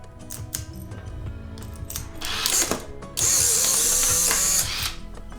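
Polaroid SX-70 instant camera fired by a homemade cable release, giving quick mechanical clicks and whirring, then a loud sustained motorized buzz as the film is ejected, close up.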